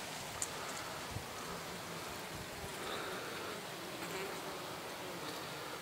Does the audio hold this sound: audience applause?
no